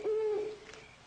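An owl gives a single low hoot at night, a clear sustained tone that fades out within about half a second, fairly faint against a quiet background.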